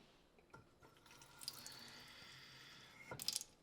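Water from a newly installed sink faucet, heard as soft dripping and trickling with a brief fuller splash of running water near the end, close and fairly quiet.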